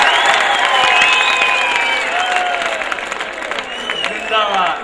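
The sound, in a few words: audience applause at a Hindi poetry recital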